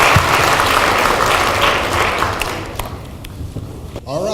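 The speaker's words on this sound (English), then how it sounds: "How about a round of applause" An audience at a televised high school academic quiz competition applauds the teams, dense clapping at full strength that thins out toward the end as footsteps and light taps emerge.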